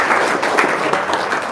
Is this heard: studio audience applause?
yes